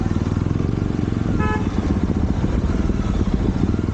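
A Jawa 42 Bobber motorcycle rides in first gear, its engine a loud, close, steady pulsing throb throughout with a brief horn-like tone partway through.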